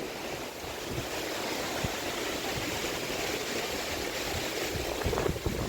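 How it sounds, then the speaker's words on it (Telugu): Strong wind from Cyclone Montha roars steadily in a broad, constant rush in Pedana, Krishna district, with occasional gusts and faint thumps, no voices. "ఇదిగోండి మొత్తం సౌండ్ చూస్తున్నారు కదా ఎంత హెవీగా వస్తుందో గాలి తుఫాను గాలి"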